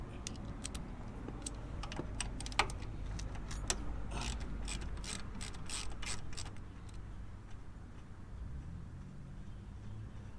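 A ratchet fitted with a 3/8 12-point socket loosens a bolt on a Harley rear master cylinder, giving bursts of rapid, close metallic clicking in the first half before the sound settles into a quieter hum.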